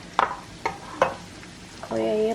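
Garlic hits hot oil in a home kitchen pan, with a few clicks and stirring noises leading into a steady sizzle, while someone speaks briefly.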